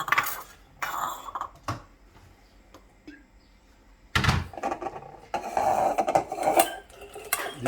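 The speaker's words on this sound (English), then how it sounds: "I'm going to serve the pasta" Plates and utensils clinking and scraping while pasta with shrimps is served, a few sharp clatters early, a quiet stretch, then a busier run of clatter and knocks at close range.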